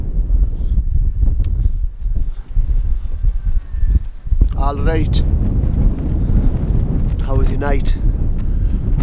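Wind blowing across a mountain summit campsite at 676 m on The Calf in the Howgill Fells, a steady low rumble buffeting the microphone throughout while two people talk nearby.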